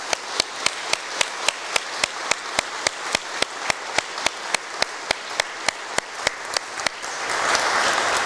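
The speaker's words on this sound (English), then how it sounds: "And I'd like to give a round of applause to you, Tom, and your staff." Applause from a church congregation at a Sunday Mass, a steady run of crisp claps that swells into a broader, denser burst of clapping near the end, with no talking over it.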